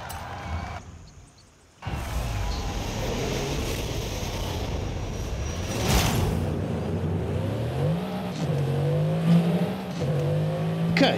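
Mercedes-AMG GT Black Series engine in Forza Horizon 5 on a Mexican test track: after a short quiet gap the engine roars in, revving up and down through gear changes, loud and close throughout.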